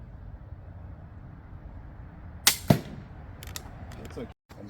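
A crossbow looses an arrow during an archery lesson: two sharp, close snaps land about a quarter second apart, over steady low background noise, followed by a few faint ticks and rattles.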